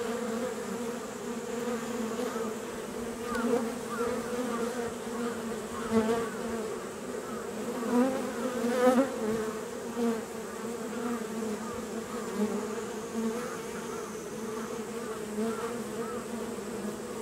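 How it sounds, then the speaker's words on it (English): Honey bees shaken into a box buzz as a dense, continuous swarm close by, rising and falling in intensity for the whole stretch, with no voices. "I'm just gonna shake these bees in here."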